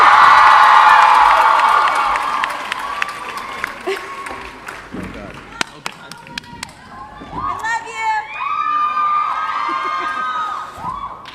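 A Comic Con panel crowd for Teen Wolf in 2016 screams and cheers loudly, a dense roar that fades slightly, then shrill high-pitched screams rise again toward the end.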